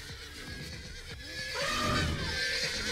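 A horse neighs in an animal-fighting video game, a loud whinny rising and wavering near the end over a background of game noise and soft hoof-like clatter.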